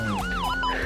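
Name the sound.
ambulance siren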